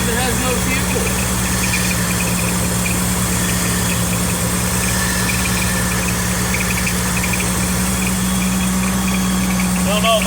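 A car engine idles steadily after a hard start on an empty fuel tank, with a constant low hum and a faint rattling chatter from the power steering or alternator running throughout.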